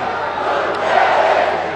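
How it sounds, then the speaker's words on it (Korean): Party delegates at a presidential candidate primary event in Incheon roar and cheer as a crowd, a dense, steady wall of voices filling the hall. "대의원 여러분, 뜨거운 박수 함성 부탁드립니다."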